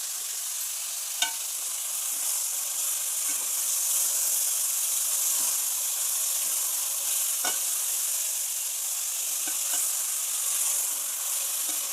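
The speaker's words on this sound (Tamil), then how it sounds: "இஞ்சி பூண்டு வதங்கி சிக்கன் எடுத்து போடலாம்." Chicken fries with ginger and garlic in a pan, making a steady, bright sizzling hiss throughout, with a few sharp clicks from stirring and no talk.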